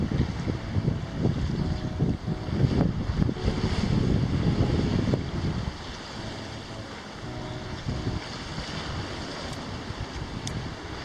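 A sailboat runs before a steady wind for a full day, with continuous rushing wind noise and washing waves along the hull, loud and close at first, then settling to a softer, even hiss.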